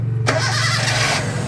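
A hard-starting car engine is restarted, cranking for a moment before firing up into a steady idle, loud and close with no talk.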